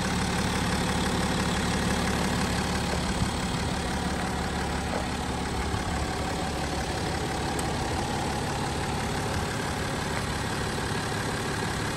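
A 2017 BMW X5 xDrive35d with a 3.0-litre twin-turbo diesel idles steadily with a dense, even clatter, heard close under the open hood with no voices.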